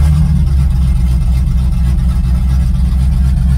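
A 1985 Chevrolet Camaro IROC-Z V8 runs steadily at idle after the key is turned, a loud, continuous low rumble heard close and alone.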